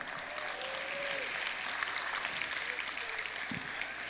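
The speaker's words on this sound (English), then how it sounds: "Big hand round of applause for my helpers." Audience applause for volunteer helpers at a live essential-oils seminar, a steady medium-sized crowd clapping evenly through the whole stretch with a faint whistle-like tone early on.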